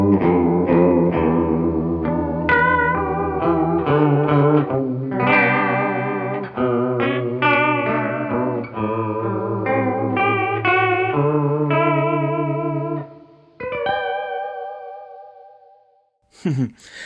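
Electric guitar played through a vintage-style bucket brigade analog chorus pedal, sustained chords and melodic lines with a wobbling, shimmering modulation, loud and close, fading out before a short final burst.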